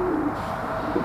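Pigeons coo softly and close by in short throaty calls at the start and end, set against steady low background noise.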